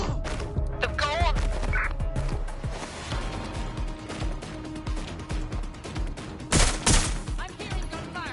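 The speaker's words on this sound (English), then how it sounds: "I'm hearing gunfire." Gunfire in the video game Watch Dogs Legion: bursts of loud shots and crashes over a busy mix of game sounds and music, with short spells of quieter action between volleys.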